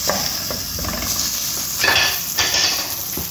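Butter sizzling and hissing in a pan for squid adobo, with utensils scraping and clinking against the pan a few times over the steady fry.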